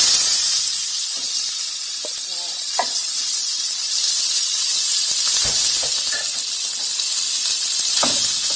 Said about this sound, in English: I'm just going to add it here to a really nice hot pan.